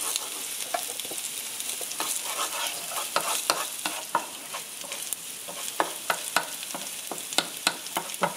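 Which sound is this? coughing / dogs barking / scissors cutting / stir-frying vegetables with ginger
stir-frying vegetables with ginger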